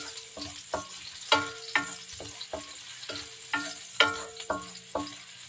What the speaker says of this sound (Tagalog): So igisa natin sa fish sauce or patis.